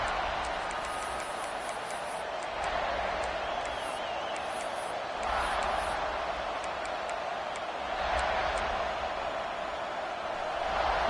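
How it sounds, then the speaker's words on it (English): A dense stadium crowd roars in the NCAA 26 college football video game, Oklahoma playing at South Carolina. The broadband noise holds steady and loud, with swelling surges of cheering and occasional high whistles. "Listen to the crowd energy here in the early going"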